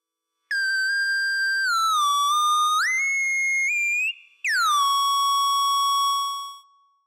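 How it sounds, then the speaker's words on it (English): A no-input mixing board produces a pure test tone that glides and steps in pitch, breaks off briefly, then jumps back higher and falls before fading. The tone is loud, isolated and free of any voice. "So I'm going to bring up a tone."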